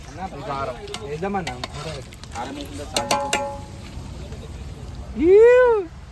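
Chicken frying in a pan with red Kashmiri chili powder and salt gives a soft sizzle beneath lively, near voices talking over it, with a rising and falling tonal squeal near the end.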